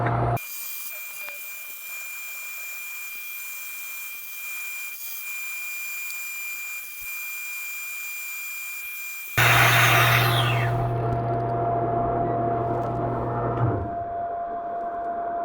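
A flap disc on a power grinder works against two 3/4 by 3/4 metal plates, a loud steady whining roar that starts abruptly, runs several seconds and then winds down.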